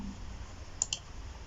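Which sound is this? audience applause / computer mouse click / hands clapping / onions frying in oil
computer mouse click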